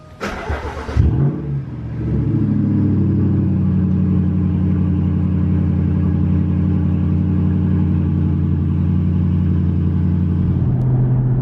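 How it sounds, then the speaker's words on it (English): A V8 in a Jeep Grand Cherokee cold-starts in a garage after sitting for days: a sharp starter whine and catch, then a steady, loud, deep idle rumble that holds without talk. "Since we got a V8 in the garage that hasn't been started in a few days, let's do a cold start."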